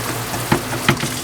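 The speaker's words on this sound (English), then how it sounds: "We have the water running" Water runs from a tap into the sink of a 2008 Forest River Georgetown 357 RV motorhome during a drain test, a steady close splashing hiss with a couple of brief spatters.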